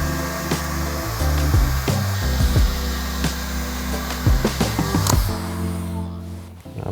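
A heat gun warms protective PPF film along an inside edge of a 2020 Chevy Corvette, giving a steady close blowing roar with occasional light knocks and handling sounds, cutting off near the end.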